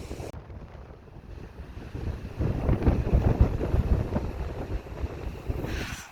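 Blustery wind on a stormy spring day by a river in Scotland, buffeting the microphone as a steady rumbling roar that swells louder midway and holds, with no talk over it.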